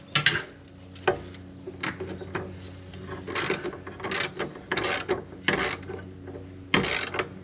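Ratcheting and metallic clicks from a wrench tightening the sway bar bushing bolts on a 2003 Toyota Avalon, in short repeated bursts with brief pauses, close up over a low steady hum.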